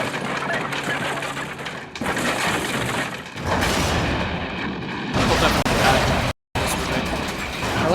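Explosions and crashing debris from a Police Story action movie scene, dense roaring blasts and shattering bursts filling the clip with a brief dropout near the end; speech is not evident.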